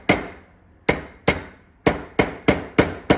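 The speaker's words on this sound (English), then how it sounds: "I'll take my hammer and just start to tap this in" Sharp metallic hammer taps on a pinball machine part held in a vise, about eight strikes, spaced unevenly then quickening, each ringing briefly, close up with no talk.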